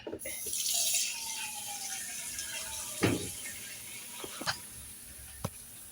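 Water poured into a pot while cooking breakfast in Saudi Arabia, a brief hissing pour near the start followed by a few sharp clinks and knocks of metal.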